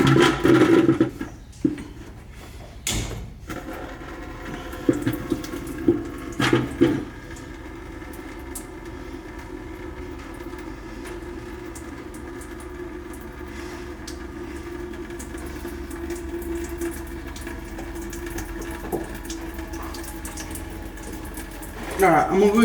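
An electric fuel pump on an old parts truck pushes fuel out of a disconnected line into a bucket. A steady, faint whirring hum with liquid gurgling runs for most of the stretch, after a few sharp knocks early on.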